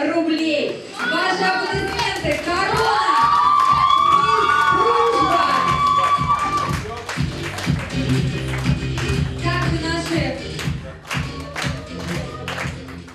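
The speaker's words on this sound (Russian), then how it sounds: "Ваши аплодисменты, корона, мисс Дружба," An audience at a regional beauty pageant claps and cheers as a crown is presented, with music and speech over the first half and a busier burst of clapping and crowd noise after.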